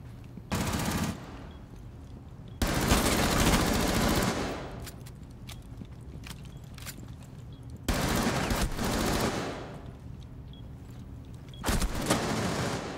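Rapid automatic gunfire from a video game shooter comes in four loud bursts of sustained firing, separated by quieter stretches of softer in-game shots and ambience; no one speaks.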